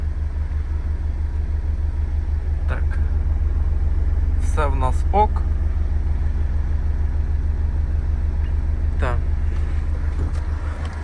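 Renault Scenic 3 with the 2.0 dCi (M9R) diesel idles steadily after an oil and filter change, a loud, even low rumble throughout while someone speaks briefly over it.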